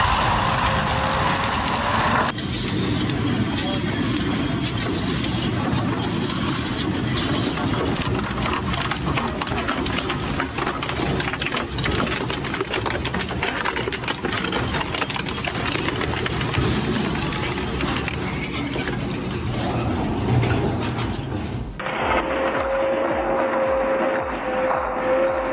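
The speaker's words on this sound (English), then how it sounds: "They call it a shredder, but the Pronar MRW2 is more like a waste-eating dragon." A Pronar MRW2 industrial dual-shaft shredder, rated at 565 horsepower, runs steadily and loudly throughout, a continuous heavy mechanical roar with dense grinding texture and a shift in tone near the end.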